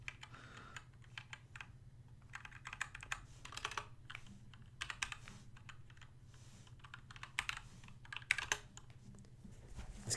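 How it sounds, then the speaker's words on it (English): Rapid, irregular clicking of fingers typing on a computer keyboard during an art hang-out stream, fairly close and steady, over a constant low electrical hum, with no talking. "I'm going to try to type and talk at the same time,"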